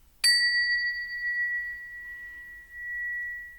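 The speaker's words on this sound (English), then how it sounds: "Concentrate on the bell." A single bright bell is struck once, ringing out close and clear, then its pure tone slowly decays during a quiet spiritual meditation.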